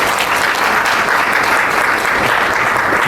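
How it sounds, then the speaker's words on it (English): An audience at a book launch event breaks into dense, loud applause, a steady wash of many hands clapping throughout with no break. "We should clap for God."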